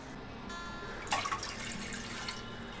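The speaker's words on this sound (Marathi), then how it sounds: "ह्या पॅन मध्ये आपण पाणी घालून घेऊया।" Water splashes and trickles briefly into a pan on a lit gas stove, quiet and close, against a faint steady background hiss.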